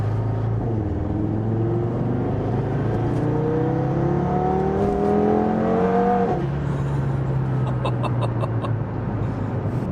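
An Audi TT RS five-cylinder engine pulls hard from inside the car, revs climbing steadily through a gear before a shift drops the pitch and the engine settles into a lower drone, loud and continuous throughout.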